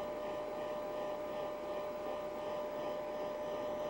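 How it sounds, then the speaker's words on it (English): Handheld hair dryer drying a cat during grooming, a steady, even whir with a faint tonal hum, running continuously without pause. "And again, keep the dryer moving."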